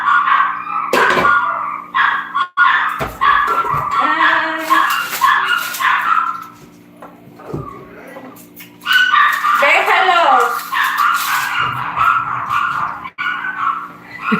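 Small dogs bark, yip and whimper in bursts throughout, close and loud, reacting to a bread seller passing outside, while a person speaks in between.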